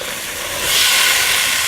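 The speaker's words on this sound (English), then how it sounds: "Throwing some Canadian bacon on here." Canadian bacon hits a hot grill at a snowy winter campsite, a loud, close, broad hiss that swells after a moment and holds steady without voices.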